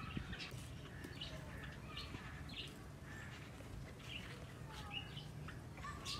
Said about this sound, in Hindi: बुलबुल भी आ गई हैं।